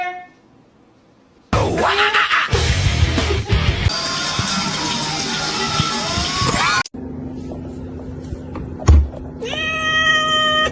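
A kitten meows repeatedly alongside household sounds and a thud, with a louder, sustained cry near the end; a person speaks briefly.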